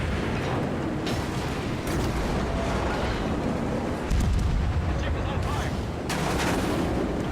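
Naval gun salvos from the cruiser Mogami in a World of Warships-style game, with heavy booms and rumbling blasts over a constant dense battle din, several distinct louder volleys standing out.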